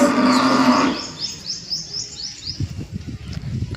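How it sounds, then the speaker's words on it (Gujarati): A buffalo on a farm lows with a harmonic call during the first second, and after it thin bird chirps and scattered thumps carry on in the open air. "મારા કરતાં તો ફોનમાં ભેંસનો વધારે અવાજ આવશે"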